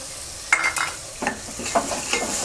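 Ginger, garlic and green chili paste hitting golden fried onions in a pan for Punjabi rajma, with a soft sizzle and several scraping stirs of a spoon, close and moderately quiet.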